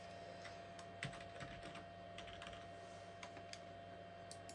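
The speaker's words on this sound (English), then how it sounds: "I am going to type this." A password being keyed on the keyboard of a Sun Blade 150 computer during Solaris 8 setup, quiet scattered keystrokes over a steady machine hum.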